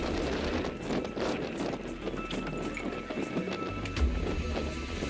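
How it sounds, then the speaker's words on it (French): Wind blowing at an outdoor youth ski race, rough gusts buffeting the microphone with a low, uneven rumble and hiss, loud and continuous, with faint background voices. "le vent s'est levé"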